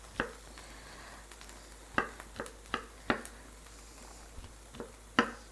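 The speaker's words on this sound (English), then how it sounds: "Now I have some baby Bella mushrooms, and we're going to chop these up also" Baby Bella mushrooms roughly chopped with a knife on a cutting board, about eight sharp, irregular knocks over a quiet background.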